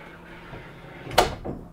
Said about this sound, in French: on a une porte coulissante ici pour accéder à la salle de bain